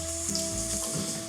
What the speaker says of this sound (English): we'll go ahead and double fry these up